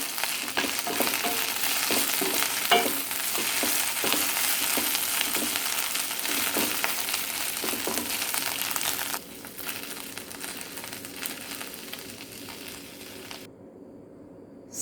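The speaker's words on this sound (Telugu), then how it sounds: "ఆకైనా సరే మరీ వేపకుండా మగ్గించుకుంటే మనకి బాగుంటుందన్నమాట" Moringa leaves sautéing in a hot pan for a chutney give off a steady, dense sizzle and crackle with occasional stirring scrapes, dropping to a softer hiss toward the end, with no voices.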